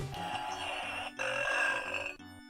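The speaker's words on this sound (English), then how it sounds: "We got a disgusting burp." Two short, disgusting burp effects play from a Hasbro Ghostbusters Ghost Whistle toy, each a tinny, electronic belch with a brief pause between, close and clear.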